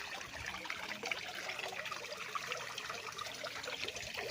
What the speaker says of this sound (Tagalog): para silang may ginawang fountain